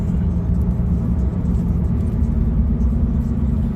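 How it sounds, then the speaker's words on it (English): A Harbor Freight Hercules two-stage vacuum pump runs while pulling vacuum on a 2.0-ton split system, producing a loud, steady low motor hum and whir that continues without a break. "And it is a 2-stage pump."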